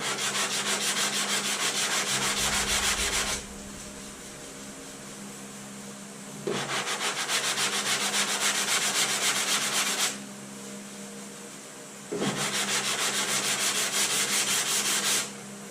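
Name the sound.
sanding body filler with a sanding block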